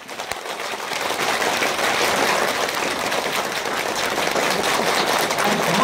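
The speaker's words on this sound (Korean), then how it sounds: "최대한 빨리 이마에 송골송골 땀이 나도록 15초 동안 박수 준비! 시작!" Fast, dense clapping from a Korean senior audience at a lecture, everyone clapping as quickly as possible; a sustained crackling wall of applause that starts abruptly and holds steady and loud throughout.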